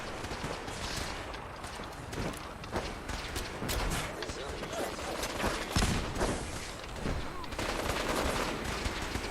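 Gunfire rattles through a Fallout 4 firefight: repeated shots and bursts, some sharp and close, others softer and further off, continuing throughout under game ambience.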